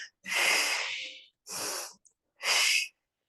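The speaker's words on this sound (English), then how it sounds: "Lovely breaths I can hear." Three heavy, breathy exhalations in a mixed-level yogalates class, each a long airy rush followed by a pause. The first is longest, and all are close and loud with no talk over them.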